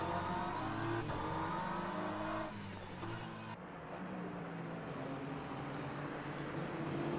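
Hypercar race car on the Portimao circuit, engine loud and revving as it approaches, then sweeping past and fading into a lower drone.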